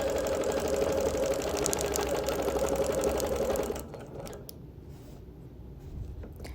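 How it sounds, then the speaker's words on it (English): Sewing machine quilting straight lines, a loud, close, fast mechanical whirr running steadily for nearly four seconds before stopping abruptly into quieter handling noise. "I'm taking the liberty here of quilting back and forth."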